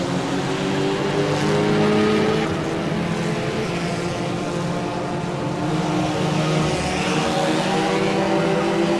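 Race car from the GPL '65 mod in rFactor, a steady loud engine roar held at high revs with slight pitch shifts as it runs through corners, continuous throughout with no talk.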